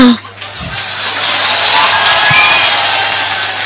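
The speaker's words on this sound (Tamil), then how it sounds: "இந்த கைத்தட்டே உனக்கு பதில் தான் தம்பி." An audience at a motivational speech breaks into applause, a broad wash of clapping that swells after a brief voice and holds steady, loud and close, for several seconds.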